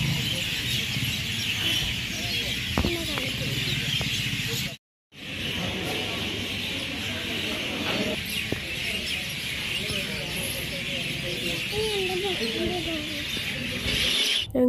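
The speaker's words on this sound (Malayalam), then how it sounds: "നല്ല കിളികളുടെ ഒച്ചയും അവരൊക്കെ വീട്ടിലേക്ക് കയറുന്ന സമയമായിരുന്നു" Birds call at dusk near a temple, with scattered chirps and clucking squeals over a steady, hissing outdoor background and a brief dropout partway through.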